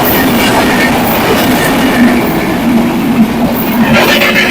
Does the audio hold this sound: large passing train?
yes